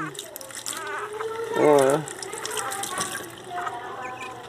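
Running water splashes steadily while a Pinscher puppy gets its first bath, with a voice briefly exclaiming over the flow.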